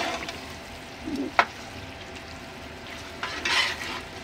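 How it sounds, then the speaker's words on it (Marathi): Spices stirred through hot oil in a pan for Schezwan chutney, a steady low sizzle with a few scraping stir strokes and one sharp utensil tap, close and fairly quiet, no talking. "आता जसं मसाले मिक्स करणार ना अजून तेल वर सुटत जाणार"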